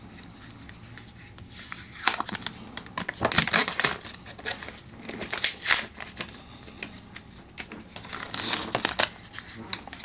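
Packaging around a Honor Magic Pad 2 charger adapter crinkles and rustles as it is unwrapped, with irregular close crackles and tearing bursts at moderate level.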